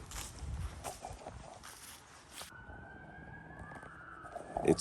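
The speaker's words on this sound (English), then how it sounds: "every time we get ready to do a session, it's always sirens" An emergency vehicle siren sounds faintly from outside, a thin rising wail that emerges after a stretch of low background noise and rustling.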